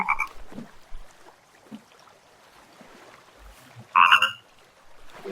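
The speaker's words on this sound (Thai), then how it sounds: "โอ้ยเสียงกบดังมาก" Frogs croak in the video game The Forest, a loud close croak at the start and another sharp burst near the end, separated by quieter ambient rustling.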